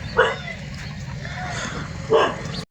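A dog barks twice, short sharp yelps about two seconds apart, fairly close outdoors near a road, over a low background hum.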